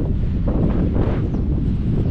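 Steady wind buffets the microphone during an electric-assist mountain bike descent on the Guadalupe–Pasaia loop, with the wind coming from behind. A dense, low roar fills the whole clip without letting up.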